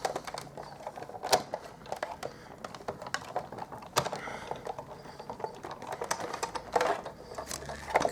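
A hand-cranked die-cutting machine rolls paper through, giving close, rapid ratcheting clicks with a few sharper snaps along the way.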